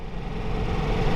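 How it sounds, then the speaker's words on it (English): A 2024 Ducati Multistrada V4S Grand Tour V4 engine in second gear near 2000 RPM gets a light whiff of throttle. Its low, steady mechanical hum swells slightly over about a second, close by, with no talk. "And then just give it a whiff of throttle."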